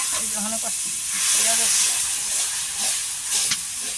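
River ghaura fish frying in spices, a steady broad sizzling hiss that swells and eases slightly, heard under intermittent nearby talk.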